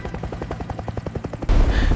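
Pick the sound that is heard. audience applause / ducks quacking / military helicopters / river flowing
military helicopters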